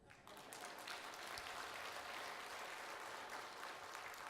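A church congregation in a Korean church applauds during a missionary sending service, producing a continuous crowd of clapping hands that stays full and even throughout, a moderately distant roar of claps without speech on top.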